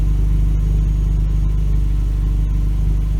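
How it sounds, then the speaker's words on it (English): Idle of a 2018 Jeep Renegade fitted with a budget aftermarket exhaust: a steady, continuous low-pitched engine drone holding an even level throughout, close and alone with no talk. "Yes, the budget exhaust sounds good. I'll even let you hear it at idle."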